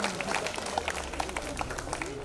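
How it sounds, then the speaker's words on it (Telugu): A crowd at an outdoor puja clapping, dense continuous applause under a speaker's amplified voice, short and steady. "గట్టిగా క్లాప్స్ కొట్టాల"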